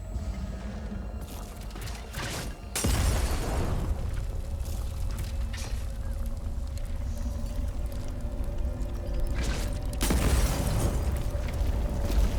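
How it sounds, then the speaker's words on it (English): A sudden heavy boom from the video game Atomfall gives way to a dense, sustained roar of blasts and rumble, with a second loud burst near the end, all loud and close with no talking. "Why is it exploding there?"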